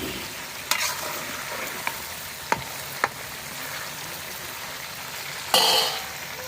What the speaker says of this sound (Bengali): আর এদিক দিয়ে রোস্ট ভাজ্যা নিতেছি, হালকা একটু ভাজবো, বেশি ভাজবো না।